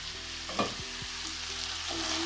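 Dried boal fish is stir-fried in a pan, giving a steady sizzle with scraping spatula strokes and a few clinks against the metal, close and moderately loud.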